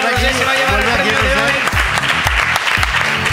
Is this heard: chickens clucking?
no